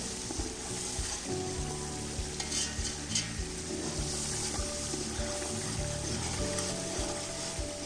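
Frying and stirring of aloo pulao ingredients in a pot, a soft continuous sizzle with scraping spoon strokes recurring at an irregular rhythm, fairly quiet and close, no voices.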